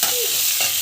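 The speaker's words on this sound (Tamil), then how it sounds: "கடலைப்பருப்பு போட்டுட்டு நல்லா வந்து வதக்கிட்டுருக்கோம்." Chana dal sautéed and stirred in a pan gives a brief, close sizzle with a soft scrape of stirring.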